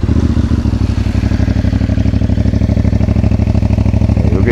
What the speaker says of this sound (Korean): 이게 지금 순정 엔진 소리입니다.